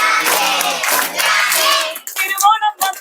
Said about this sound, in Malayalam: അപ്പൊ അമ്മമാരും കൈയടിച്ച് കൂടൂലേ?